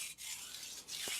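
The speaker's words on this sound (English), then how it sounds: "We'll just go ahead and knock that burr off a little bit" A Tojiro R2 santoku edge slides slowly across a 1000-grit vitrified whetstone to remove the burr, making a soft, steady rasping stroke followed by a second stroke, up close and without talk.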